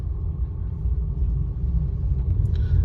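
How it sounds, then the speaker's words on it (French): A Toyota Yaris Hybrid switching from electric drive to its petrol engine while accelerating gives a steady, close, low engine rumble that grows slightly louder toward the end, with no talking. "j'ai enfoncé la pédale et je suis passé au moteur thermique"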